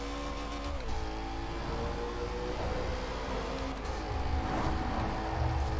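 A Koenigsegg Agera RS hypercar in Forza Horizon 4 revs hard with manual gear shifts, its engine note climbing, dropping at each change and climbing again, loud and continuous with no talk.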